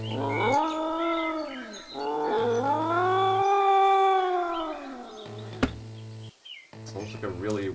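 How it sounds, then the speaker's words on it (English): A strange, drawn-out cat-like creature cry in the video game A Wolf in Autumn, rising and falling in several long wavering wails over a low steady hum, with a sharp click partway through. "Sounds like a really weird cat or something"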